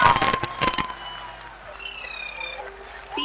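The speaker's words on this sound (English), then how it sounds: "People are applauding." A college induction-day audience bursts into applause that is loud and dense for the first second, then thins to scattered claps and fades into a quieter room with faint background sounds.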